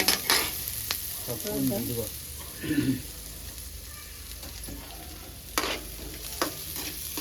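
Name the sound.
onions with curry leaves frying and being stirred in pan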